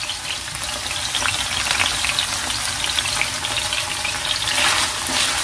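Thyme and bay leaves fry in a hot pan with a dense, continuous sizzle and crackle, close and fairly loud throughout, with no talking.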